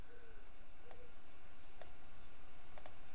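Single computer keyboard key presses, a few sparse clicks spread out over a few seconds against a steady quiet background hum, with no talking.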